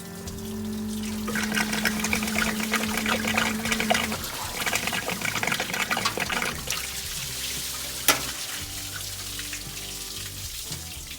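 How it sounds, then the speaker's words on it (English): Water draining from a car's coolant system after flushing, on a head gasket repair job: a steady splashing, trickling pour runs throughout, with one brief louder knock near the end. "this is just pure water after that I'm draining right now after flushing the coolant system"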